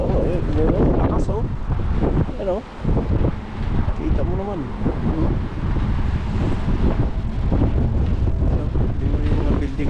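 Strong gusts batter the microphone outdoors near Yonge and Steeles in Toronto, loud rumbling buffets rising and falling while someone talks over them.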